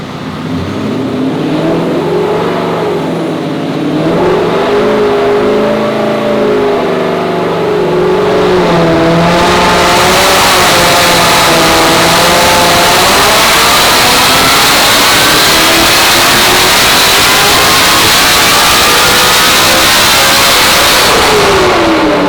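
A Roush Mustang making about 1,100 wheel horsepower revs hard on a dyno: a loud, sustained engine roar climbs steadily through a long full-throttle pull, with no talk over it.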